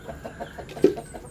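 Chickens cluck softly on a farm, a few low, short notes in quick succession with one slightly louder cluck near the end, brief and close.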